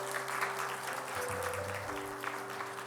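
A church congregation applauds after certificates are presented at a service, a steady wash of clapping from many hands lasting a few seconds, with a sustained organ-like tone underneath.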